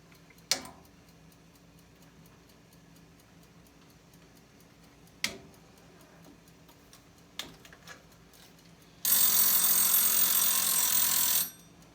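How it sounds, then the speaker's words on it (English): A kitchen timer ticks with a few sharp isolated clicks in near silence, then a loud harsh buzzer sounds steadily for about two seconds before cutting off. "That's just the buzzer."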